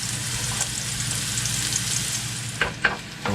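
Mushrooms and celery fry in olive oil for a vegetable omelette, giving a steady close sizzle with a few brief clicks of stirring near the end.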